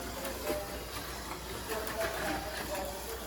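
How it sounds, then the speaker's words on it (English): A 2005 Ford GT slot car in Gulf livery runs laps on its track with a steady, close whirring hiss and faint rattling clicks that swell and ease as it circles. "All right, so let's run a few laps, see how she burns."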